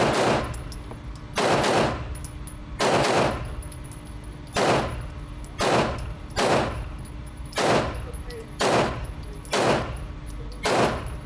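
A Smith & Wesson M&P 2.0 pistol fires a magazine at an outdoor range, with about nine loud, evenly spaced shots ringing close by.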